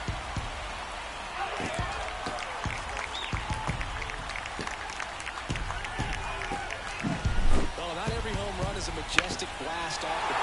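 A home crowd roars after a home run in a Mets at Pirates baseball video game simulation. The cheering is steady and broad, with sharp claps and bursts throughout and voices underneath.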